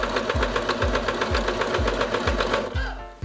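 Sewing machine stitching a seam around the side of a fabric carrying bag, a fast rhythmic mechanical chatter with regular thumping beats, close and loud, stopping just before the end.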